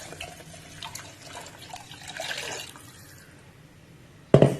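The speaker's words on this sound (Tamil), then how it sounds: "தண்ணி ஊற்றிக்குவோம்." Water pours and splashes steadily into a pressure cooker for a few seconds, then a sharp metallic clank sounds at the end.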